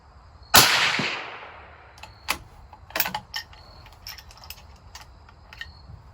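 A single loud 6mm BR rifle shot during load development with 105-grain bullets and 112 Match Burner powder, a sharp near crack with a decaying tail, followed by faint clicks and mechanical handling sounds.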